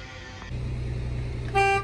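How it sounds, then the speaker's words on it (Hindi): A Nissan Xterra engine hums steadily nearby, then a short, loud horn blast sounds at the end. "हॉर्न आप देख रहे हैं इसका बिल्कुल अब वर्क कर रहा है"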